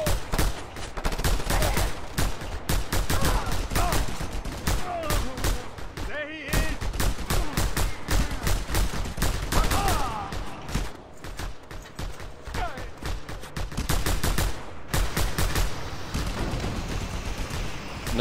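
Rapid bursts of automatic gunfire and shots from the video game Just Cause 2, loud and nearly continuous through the scene, with brief lulls and occasional mechanical clanks.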